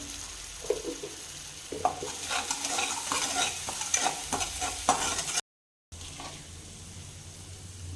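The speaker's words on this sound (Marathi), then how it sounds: "मिरची छान परतून घ्यायची आहे." Green chilies sautéed with salt in a pan while making sabudana khichdi, a soft sizzle under repeated close scraping stirs, fairly quiet, cut off by a brief silence before a faint hiss resumes.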